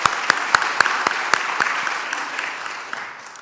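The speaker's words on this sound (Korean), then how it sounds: "우리 함께 한번 박수 한번 쳐볼까요?" A church congregation at a Sunday worship service claps together, a few distinct sharp claps at first, then a softer spattering that fades away.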